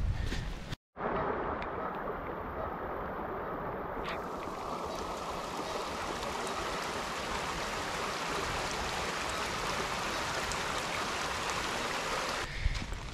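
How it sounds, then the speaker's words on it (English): Rain falls outside a tent at a winter camp in March, a steady, dense hiss that runs unbroken after a brief gap at the start, with no voices. "It's raining pretty good out."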